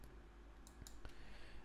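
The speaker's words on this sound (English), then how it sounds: "double click" A computer mouse double click while working in Unreal Engine: a pair of quick, small, close clicks over a faint background hiss.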